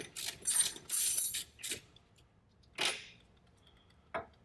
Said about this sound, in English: You always want to break this stuff loose with a wrench first, not an impact.